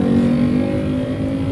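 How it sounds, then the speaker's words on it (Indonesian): A noisy-exhaust motorcycle running beside a Honda HR-V gives a steady, loud low engine drone with a tonal hum, heard from inside the car. "Walaupun di sebelah juga masih ada motor dengan knalpot berisik"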